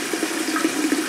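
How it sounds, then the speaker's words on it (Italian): Hot water gushes steadily from a bathroom tap in a continuous hiss and splash, close and fairly loud, with no talking. "Prima esce l'acqua calda"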